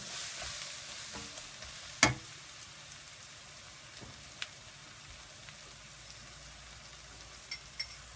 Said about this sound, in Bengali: মশলাটাকে ভালো করে মিশিয়ে নেবেন।